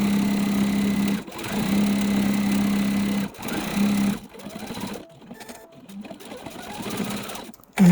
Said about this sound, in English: all I need to do is match it up and sew